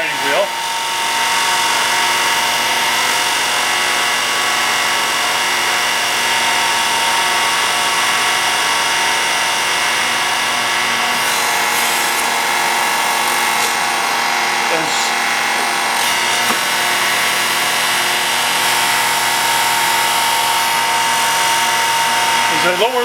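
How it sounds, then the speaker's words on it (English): A marble-shaping machine's grinding wheel spins up and runs continuously with a loud, steady high-pitched whine and tonal hum, while someone talks over it throughout. "When I turn the main switch on, that starts spinning the grinding wheel."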